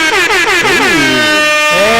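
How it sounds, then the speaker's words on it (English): A loud, blaring air horn sound effect blasts in a few wavering, pitch-bending honks, close and dominant, with faint voices underneath. "You need that air horn."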